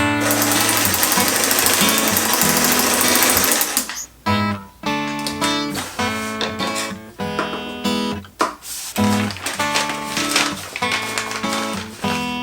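A sewing machine runs loudly and close, stitching the bottom seam of a Tyvek stuff sack, with one long continuous run followed by several shorter bursts of rapid needle chatter separated by brief pauses.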